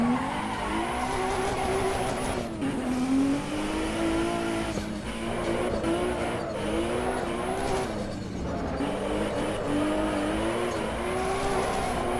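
A race car engine in the Assetto Corsa EVO racing sim bouncing off its rev limiter, a loud, continuous high-revving drone with rhythmic stuttering cuts and pitch dips, sometimes joined by tire squeal.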